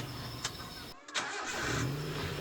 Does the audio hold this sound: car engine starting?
yes